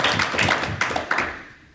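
A few close, distinct hand claps at a school board meeting, scattered and uneven rather than a full ovation, fading out after a brief burst.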